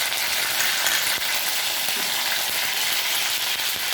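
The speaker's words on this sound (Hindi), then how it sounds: "थोड़ा गर्म होने के बाद करी लीव्स डालना है।" Curry leaves dropped into hot oil, giving a loud, dense, continuous sizzle and crackle close up, steady throughout with no voices.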